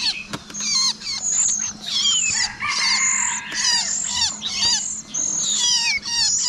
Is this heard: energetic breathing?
no